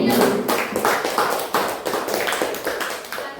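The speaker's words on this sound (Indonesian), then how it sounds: "kita kasih tepuk tangan dulu sama penanya" Classroom applause for a student questioner during a practice-teaching lesson, a steady run of quick hand claps from a small group of pupils lasting a few seconds, close and fairly loud with no talk over it.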